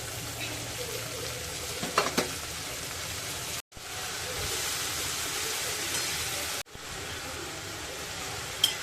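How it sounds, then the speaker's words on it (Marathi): Finely chopped amaranth greens sauté in a pan over low heat, an even, moderate hiss of frying with a brief utensil clatter early on and two abrupt cuts in the sound. "लगेच आता त्यामध्ये आपण बारीक चिरलेली पालेभाजी घालून घेऊया"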